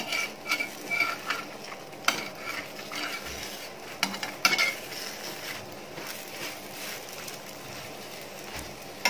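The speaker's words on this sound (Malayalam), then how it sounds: "ഈ പൊറോട്ട ഒന്ന് ഇങ്ങനെ വെറുതെ അങ്ങനെ ഒന്ന് ഒന്ന് ചുറ്റിച്ചു കൊടുക്കാം." Kerala porotta flatbread being turned and rotated in a hot pan over a gas flame, soft sizzling with scattered scrapes and clinks of utensils against the pan, fairly quiet and close.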